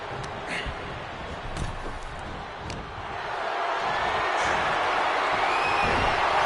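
An arena crowd in the WWE 2K26 wrestling video game keeps up a steady roar and cheering, with occasional thuds and slams, building slightly louder over time.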